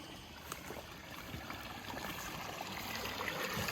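A stream runs quietly at a campsite, a faint, steady trickling wash with small splashy ticks.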